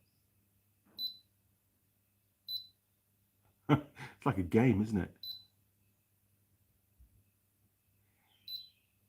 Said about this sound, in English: if I can get it level, it'll beep at you